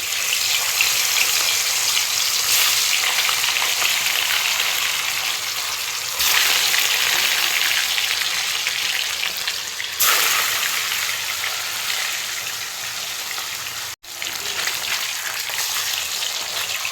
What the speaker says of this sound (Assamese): এয়া ভাজা বনোৱা কেৰাহীটোতে মই এতিয়া মাছ ভাজিম